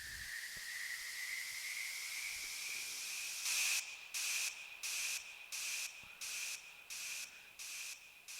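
A music-mix lifter rises as a hissing noise sweep with a slowly climbing tone, then breaks into a rhythmic gated pulse of evenly spaced bursts, moderately faint with no voices.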